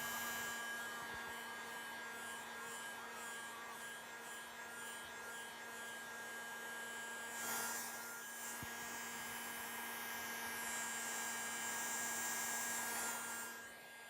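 A heat gun runs continuously at moderate, fairly quiet level while warming LG Hausys car wrap film along a seam, a steady airy blowing hum with slight swells and no voices.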